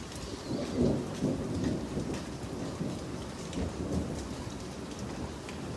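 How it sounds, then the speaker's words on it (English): Distant thunder rumbles low and long as a storm passes, under a steady wash of rain. "It's just thundering off in the distance now."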